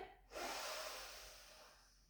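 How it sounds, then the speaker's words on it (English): One deep breath is drawn in through the nose during a Pilates exercise, a soft, close, steady inhale lasting well over a second that fades at the end, quiet and without speech. "And just take a nice breath in."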